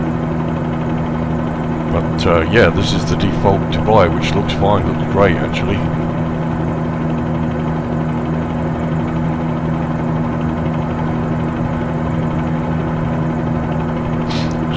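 Helicopter engine in Microsoft Flight Simulator 2020, flying over default Dubai: a steady droning hum and rotor whine running throughout, with someone talking over it for a few seconds.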